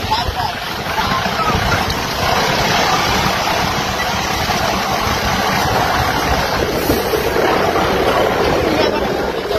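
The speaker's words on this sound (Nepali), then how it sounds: "कस्तो फास्ट जाँदै रहेछ खोला" The flooded Teesta river rushes past fast and high, a loud, unbroken broadband roar of churning water mixed with buffeting wind, close and steady throughout.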